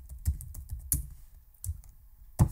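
Fingers type on a computer keyboard in quick, close clusters of keystrokes with short pauses, ending on a firmer key press.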